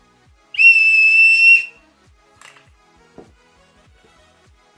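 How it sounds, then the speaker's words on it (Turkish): A single shrill toy whistle blast lasting about a second, loud and close, followed by faint clicks and near silence. "Düdük. Düdük."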